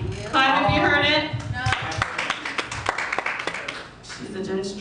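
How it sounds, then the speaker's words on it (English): Scattered audience clapping answers a comedian at a stand-up show, a short burst of separate claps under and between his spoken lines, fairly near and brief. "Clap if you heard it."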